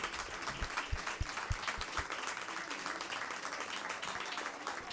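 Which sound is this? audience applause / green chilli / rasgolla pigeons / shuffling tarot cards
audience applause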